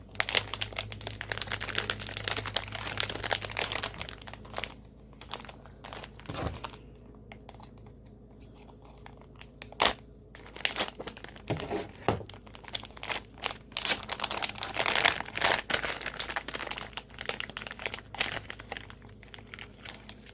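Crinkly wrapping paper being pulled and torn off a gift box holding a diamond painting kit, with irregular close crackles, rustles and tearing bursts throughout, loud in places and softer in between.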